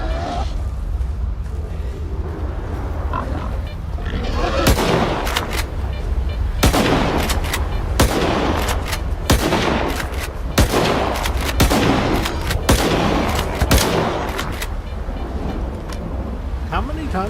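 Gunfire in STALKER 2, a first-person shooter: repeated loud, sharp shots in irregular bursts over a continuous rumbling ambient bed, with some talking mixed in.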